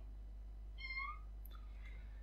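A young kitten, newly brought home, gives one short, high, clear meow followed by a fainter second squeak, close to the microphone over a quiet low hum.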